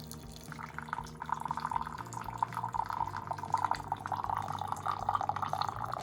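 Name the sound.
hot water dispensing from a countertop RO water filter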